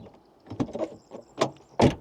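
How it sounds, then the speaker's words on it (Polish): Front door of a 2006 Mercedes CLS55 AMG with frameless windows opening and closing, heard as a soft unlatching followed by two distinct thuds, the final slam loudest, with no talking. "Dźwięk otwierania i zamykania drzwi z przodu."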